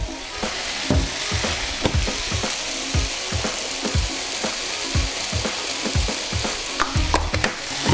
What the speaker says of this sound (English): just keep giving that a stir, making sure it's nicely cooked.